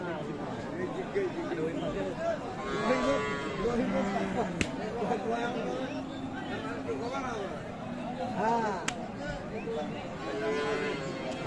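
Holstein Friesian cows and calves lowing at Aftabganj cattle market in Dinajpur, Bangladesh, a few drawn-out moos rising over steady crowd chatter and nearby talking.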